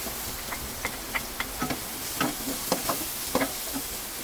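White onion and garlic sautéing in margarine, stirred in a pan, with a continuous soft sizzle and a series of light scraping taps from the utensil scattered throughout.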